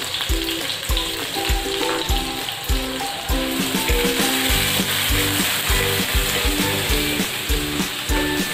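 Chopped onion frying in a pan for a Marathi potato vegetable dish with ground masala, a steady sizzle under repeated rhythmic stirring and scraping clatter, loud and close throughout with no one speaking.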